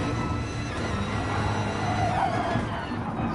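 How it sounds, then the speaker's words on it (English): A twin turbo V8 GT3 race car in a racing video game revs hard at Alsace Village, a loud, steady engine drone that holds throughout with a slight rise partway. "Really revving that twin turbo V8 out"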